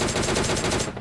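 Automatic gunfire in the PUBG Lite battle royale game, a dense continuous burst of rapid shots that rattles loudly for about a second before breaking off, with no voices over it.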